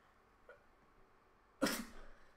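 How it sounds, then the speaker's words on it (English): A single short sneeze from a person indoors, sharp and close, after a quiet breathy catch. "I need to sneeze."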